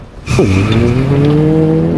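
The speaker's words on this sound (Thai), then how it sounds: "เร่งเครื่องเต็มสปีด" A car in the video game Resident Evil 3 accelerates at full speed, its engine tone climbing and holding loud and close with tire squeal, no talking.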